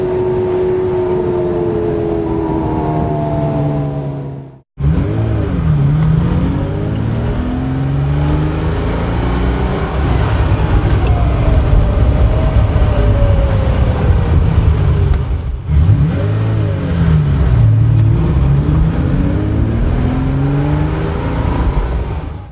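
A Ferrari 330 GTS engine accelerates hard, loud and close, revving up through the gears in rising and falling sweeps, with two brief cuts between sustained pulls and no voices.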